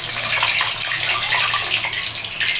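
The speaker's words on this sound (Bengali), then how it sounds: "তেল গরম হয়ে গেছে, আমি আদা কুচিয়ে নিয়েছি, সেই আদাগুলো কোচা আদাগুলো দিয়ে দিলাম তেলের উপরে।" Chopped ginger goes into hot oil for a mutton curry and sizzles with a loud, steady, crackling hiss that runs unbroken throughout, with no talking.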